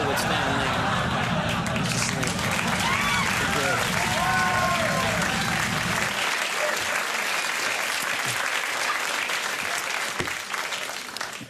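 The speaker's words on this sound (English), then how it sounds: "It's a nice crowd that would applaud that special effect." A late-night television studio audience breaks into loud, dense applause for several seconds. The clapping then thins and fades while a voice talks.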